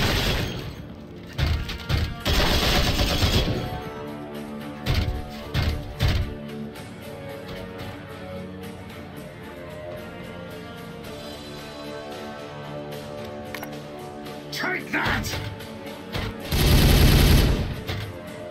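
Gunfire in the strategy game Warhammer 40K Regicide comes as rapid fusillades and heavy thuds in loud clustered bursts between quieter stretches of game music, with a final volley near the end.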